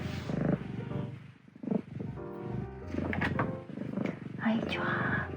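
A cat's purr rumbles loud and close in the background, low and continuous, while someone talks and coos over it almost throughout.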